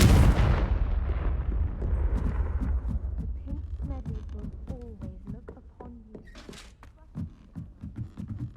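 Confringo blast spell cast in Hogwarts Legacy, a loud booming explosion at the start that rolls off into a long rumbling tail, followed by scattered lighter game impacts and effects.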